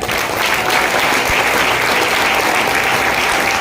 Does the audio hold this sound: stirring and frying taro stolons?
no